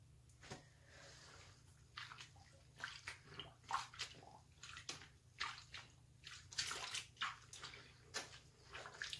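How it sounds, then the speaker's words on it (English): Cloth diaper covers turned inside out are swished and squished in a basin of water for lanolizing, giving soft irregular sloshes and splashes that come in repeated bursts, close and fairly quiet, with no talking. "kind of swish the water into them. I squish them a little bit, make sure they're all wet."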